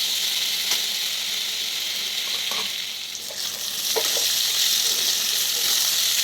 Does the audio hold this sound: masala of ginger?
yes